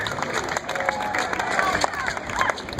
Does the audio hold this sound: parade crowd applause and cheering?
yes